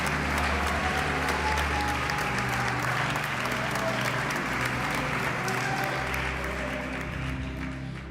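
Church congregation applauding during a Portuguese-language sermon on there being one God, a steady loud wash of clapping lasting throughout with faint voices and a low hum underneath.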